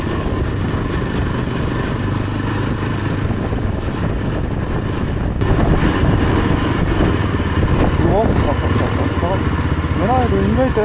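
Motorcycle rumbling steadily along a rough, uneven ghat road during a monsoon ride, the engine drone continuous and close with road and wind noise, while a voice talks over it.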